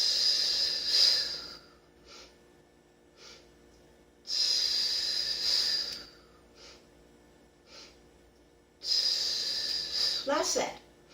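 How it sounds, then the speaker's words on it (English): Strong, hissing breaths are drawn and pushed out in long, repeated cycles during a floor-based fitness breathing exercise, loud and close, with softer breathy pauses in between. "Now I'm going to add that breath."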